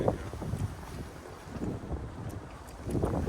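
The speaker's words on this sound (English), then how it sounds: "Wind's blowing pretty significantly" Wind blows outdoors in gusts, buffeting the microphone with low rumbling surges that rise and fall, louder at the start and end.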